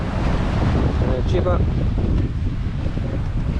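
Strong wind buffets the microphone while sailing at sea in the Mediterranean under full mainsail, a steady loud roar with a brief voice mixed in around the middle.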